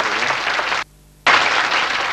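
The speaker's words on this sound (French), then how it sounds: "qu'on applaudit très fort" Studio audience applause on a French television word game show, loud and dense, breaking off abruptly for a brief gap before resuming at full strength.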